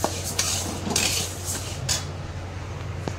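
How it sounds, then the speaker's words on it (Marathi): Bhajani flour grains are dry-roasted and stirred in a pan, with a spoon scraping and clinking against the metal in short bursts over a low steady hum, close and moderately loud, no voices. "तर मी ही आता भाजून घेत आहे"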